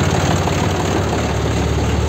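A New Holland 3630 farm tractor engine runs at a steady idle close by, a loud continuous diesel rumble with no change in pitch and no voices over it.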